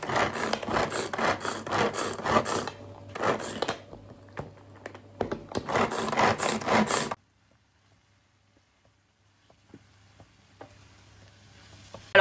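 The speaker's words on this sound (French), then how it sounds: "je vais le râper, je vais le mettre directement ici pour le hacher" Onion and garlic are rubbed by hand against a grater in a home kitchen in quick rasping bursts, a pause, then another run before a quiet stretch with faint clicks.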